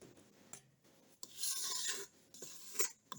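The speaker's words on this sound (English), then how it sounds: "So now we are going to scrape the edges." A spatula scrapes around the edges of a bowl of Swiss meringue buttercream, faint soft rasping in a few short strokes separated by quiet gaps.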